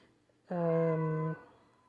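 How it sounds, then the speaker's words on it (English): A cat meows once in a single sustained, tonal cry lasting under a second, moderately close against a quiet room, with no talk during the cry. "Cat crying in the background"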